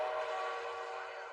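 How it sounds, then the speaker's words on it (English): The Hell Train in an English-dubbed anime gives off a steady, droning, whistle-like rumble with a layered tonal hiss, holding at an even level throughout. "The Hell Train is taking the last of the spirits here with it."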